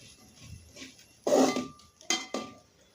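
A spoon scraping and clanking against a pan while breadfruit egg thoran is mixed, two sharp metallic clatters standing out over quiet kitchen background.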